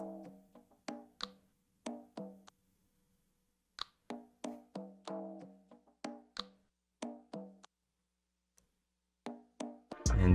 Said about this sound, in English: this finger snap, and together they sound like this.